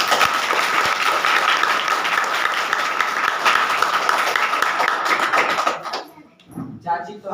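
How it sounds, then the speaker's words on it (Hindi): A large crowd at a political gathering claps loudly and continuously for about six seconds, then the applause fades into scattered claps and background voices. "जोरदार ताली बजाओ"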